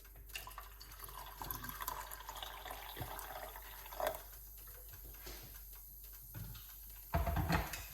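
Water is poured into a pot for avocado seed tea, a steady trickling, splashing flow that runs throughout, close and moderately loud, with a few heavier gurgles near the end.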